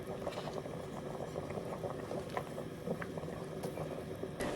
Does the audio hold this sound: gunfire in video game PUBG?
no